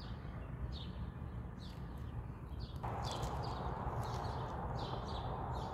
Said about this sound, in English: The birds chirping and not a soul in sight.